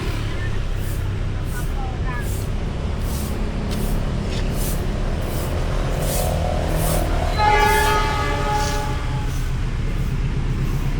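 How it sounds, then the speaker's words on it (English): A train horn sounds in a few sustained blasts over steady rumbling rail noise near a train station in Purwokerto, Central Java, with a voice talking at times in the background. "I think you can hear the train horn"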